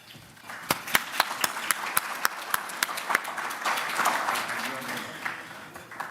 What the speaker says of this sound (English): So, big round of applause for John Opala